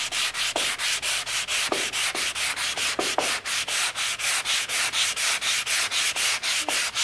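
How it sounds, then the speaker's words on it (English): Sandpaper rubs across the carved inside of an archtop guitar's arched wooden plate in steady, rapid back-and-forth strokes, close and rhythmic with no pauses or voices. "we'll sand until we get the surface pretty much this condition"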